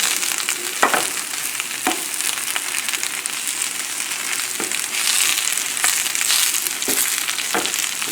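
Spinach being stirred in a hot pan, a steady crackling sizzle with periodic scraping and tapping strokes from the utensil, close and continuous without talk.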